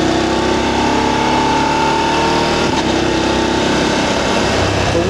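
Voge DSX 900 motorcycle engine revving hard and quick shifting up in sports mode, a loud, steady close engine roar with rising pitch broken by brief clutchless shift dips.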